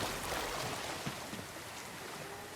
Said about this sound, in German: man kann durch den Wasserfall durchgehen